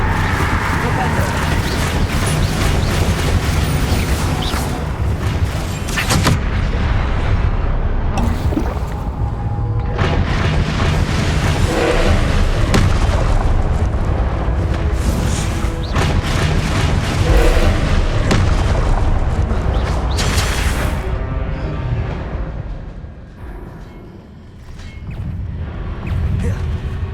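Confringo spells go off in the Hogwarts Legacy video game as a loud, continuous run of booming explosions with dense crackling bursts and a short dip near the end.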